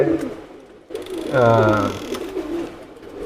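Teddy pigeons, a pair of birds, give a short, fairly loud coo with soft background noise before and after.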